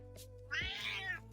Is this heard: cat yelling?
yes